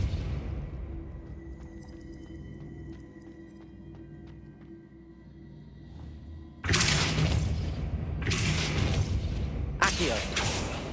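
Depulso spell cast in Hogwarts Legacy, a sudden loud whooshing burst of magic that repeats three times in quick succession after a quiet stretch of low ambient hum and soft game sounds.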